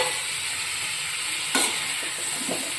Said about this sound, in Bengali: হালকা করে ফ্রাই করে নেব